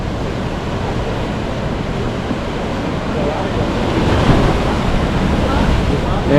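Ocean surf washes against the San Diego shore near a coastal viewing platform, a loud continuous roar with wind buffeting the microphone and a swell building toward the end.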